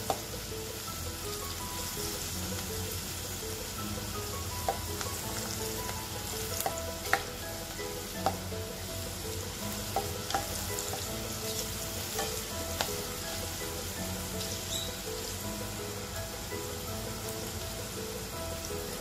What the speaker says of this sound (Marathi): मोहरी तडतडली आहे आपली।